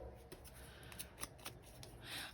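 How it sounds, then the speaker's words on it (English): Scissors fussy cutting a printed paper image for a junk journal, giving faint, quiet snips and paper rustles scattered across a soft background hiss, with a slightly louder crinkle near the end. "I'm doing a fussy cut image"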